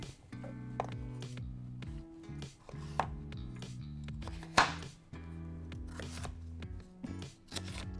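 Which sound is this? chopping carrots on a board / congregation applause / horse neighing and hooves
chopping carrots on a board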